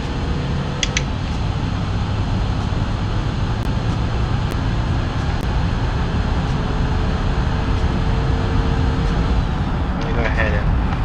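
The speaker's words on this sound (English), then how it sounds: "Sounds like this one's a turbo." A steady turbocharged Volkswagen Touran TDI engine drone from the BeamNG driving game, continuous and close, carrying a faint high whistle, a low hum and scattered light clicks, with a brief chirp near the end.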